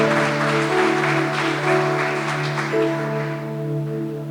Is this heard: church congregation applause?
yes